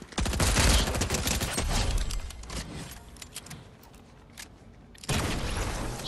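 Rapid bursts of gunfire from a battle-royale video game, including sustained automatic fire, come loud and dense in the opening seconds, ease off through the middle and resume abruptly near the end.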